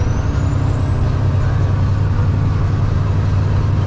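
A semi truck's diesel engine, rated 525 horsepower and tuned higher, pulls uphill in top gear under light throttle, a loud steady low drone heard from inside the cab with a faint high whine.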